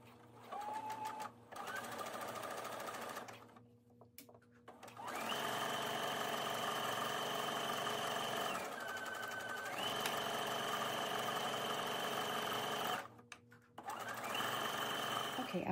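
A sewing machine top-stitches a garment with a 4 mm wide, 1.2 mm long three-step zigzag, running in steady whirring bursts of a few seconds each, with short pauses between them and a soft voice at times.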